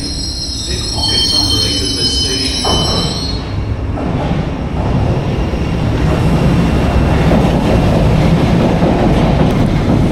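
A train rumbles in loudly with high squealing wheels at first, then a heavy, steady roar of carriages rolling past close by.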